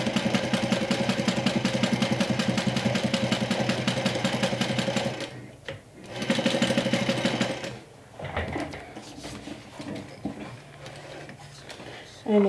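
A sewing machine stitching in the ditch on a Sew Sweetness Gloss cosmetic bag: steady rapid needle chatter up close for several seconds, a short pause, a second run, then quieter handling noises.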